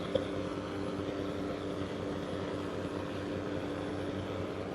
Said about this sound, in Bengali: আরেকটা লঞ্চ চলে আসছে।